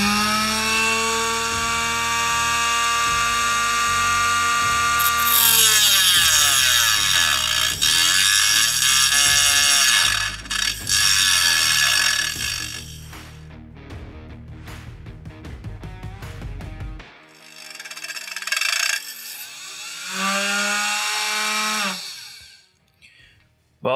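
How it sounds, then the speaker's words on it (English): A Dremel rotary tool clamped in a vise cuts aluminum stock, a loud, steady high-pitched whine and grinding that runs for most of the stretch, drops out, then returns briefly with a shorter burst near the end. "So I put the Dremel in the vise, and I feel like I'll get good control by manipulating the piece instead of the actual tool."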